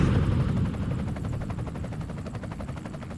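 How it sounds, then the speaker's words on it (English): A small airplane takes off and climbs, its engine roaring loud and steady close by with a throbbing, rotor-like pulse that holds throughout. "The airplane took off and went right up into the air."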